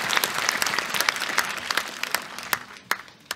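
An audience applauds after an orchestra's performance at its 75th anniversary concert, with dense sustained clapping from a crowd that thins into scattered claps toward the end.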